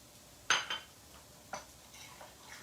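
A spoon stirs seasoning into baked beans in a pot, with a few quiet scraping knocks against the pot's side spaced apart in an otherwise quiet room.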